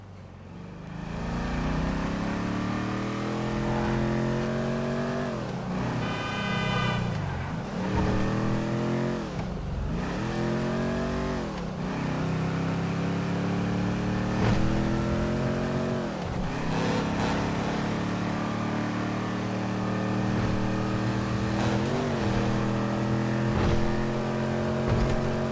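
Car engine in Grand Theft Auto V roaring steadily throughout, with repeated rising and falling revs as the driver accelerates and shifts, loud and close with no talking.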